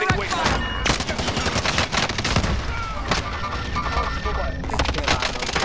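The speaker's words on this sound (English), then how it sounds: "Taking direct fire." Heavy gunfire fills a Call of Duty: Modern Warfare firefight, continuous loud bursts and sharp cracks with booming impacts throughout, as voices shout underneath the shooting.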